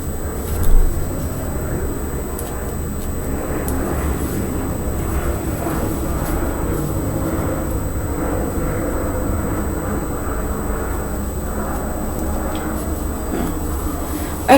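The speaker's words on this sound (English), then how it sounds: "every so often you hear the planes." A low, steady rumble of airplanes flying near an airport fills the background, a continuous distant drone that persists throughout with a faint thump near the start.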